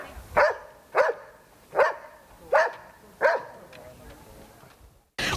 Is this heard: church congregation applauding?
no